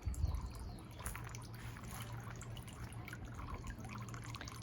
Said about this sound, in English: Can you hear the sound of running water?